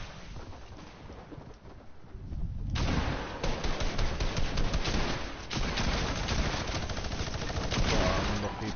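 Heavy video game gunfire in rapid, dense bursts, near and loud, with a quieter stretch before it erupts into sustained shooting after a few seconds.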